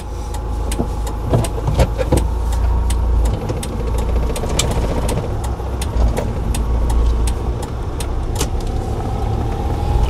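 A 2.5-ton manual vehicle drives steadily through a road driving test, its engine holding a continuous low drone with rattling clicks over the top, close and fairly loud, with no talk.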